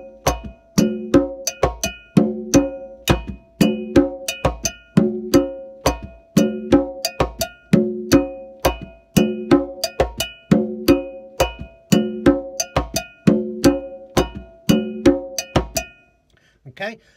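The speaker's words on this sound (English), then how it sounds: "the whole 3-2 clave pattern on the cowbell with the conga pattern" A bright cowbell plays a repeating 3-2 clave rhythm over low conga tones, locked in a steady looping groove for about sixteen seconds before stopping.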